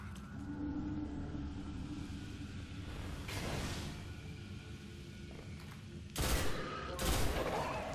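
Gunfire in Destiny: The Taken King, a steady rumbling battle ambience with sharp bursts of shots near the middle and two loud blasts toward the end, with no talk over it.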